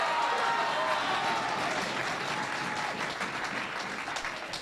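Sustained crowd applause fills the arena at the 2001 Embassy World Pool Championship quarter-final between Lee Kendall and Rob McKenna, loud and dense throughout before easing slightly toward the end.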